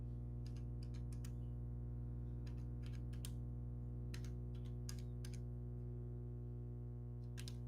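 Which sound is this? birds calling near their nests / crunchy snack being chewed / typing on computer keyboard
typing on computer keyboard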